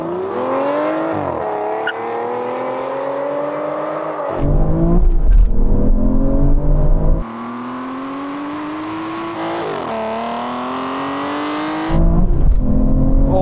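Aston Martin Valkyrie, Vanquish and V12 Vantage accelerate hard in a rolling drag race, a loud close engine roar climbing in pitch through each gear, with sharp drops at the upshifts and no talk over it.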